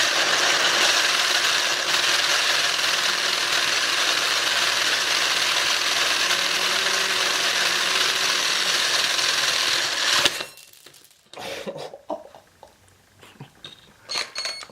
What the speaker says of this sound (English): And then you drill the shit out of the coffee beans.